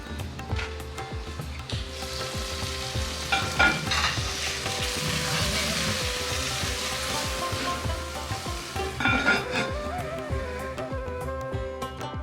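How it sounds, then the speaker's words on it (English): Tomatoes sautéing in hot oil and ghee, a dense continuous sizzle and crackle with intermittent scraping stir strokes against the pan, close and steady throughout. "So now heating some oil and ghee, adding in the tomatoes and sauteing them well."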